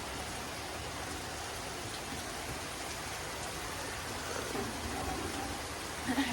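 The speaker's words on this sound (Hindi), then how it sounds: "बहुत तेज़ बारिश हो रही है, आप देख सकते हो, आपको ना आवाज़ भी आ रही होगी बारिश की" Heavy rain pours down as a dense, steady hiss of drops striking surfaces, continuous and close with no talking.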